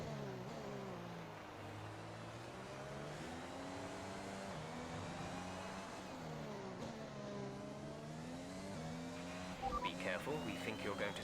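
An F1 race car in a video game at Mexico, driving on worn tyres losing grip, a continuous high engine whine rising and falling through gear changes, heard throughout beneath someone talking.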